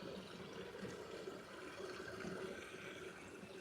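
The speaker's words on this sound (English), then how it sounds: "we have a breach of water coming through" Water pours steadily through a breach beside a collapsing sinkhole on a winter walk in Japan, a continuous rushing wash heard at moderate distance with no pauses and no talk.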